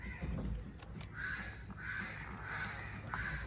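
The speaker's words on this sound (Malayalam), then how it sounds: "പക്ഷികളുടെ കരച്ചിലുകൾ മാത്രം." Crows cawing and other birds calling in a cool, quiet wooded spot by a railway line near Kadalundi, several repeated caws spread across the clip at moderate distance with no talk.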